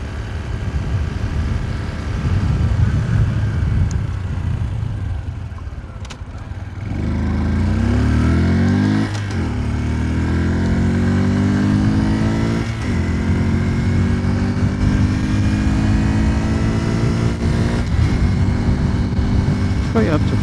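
Honda C125 motorcycle pulling away from a stop and accelerating through the gears, its engine note climbing repeatedly under steady wind noise, loud and close from the rider's position.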